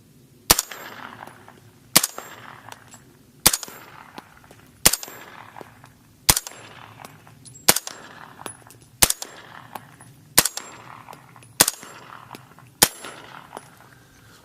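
Ten evenly spaced shots from a suppressed 300 Blackout rifle firing subsonic Magtech rounds from a 30-round Magpul magazine, each a sharp metallic crack with a short ringing decay, about one every 1.4 seconds, close and loud outdoors in the woods.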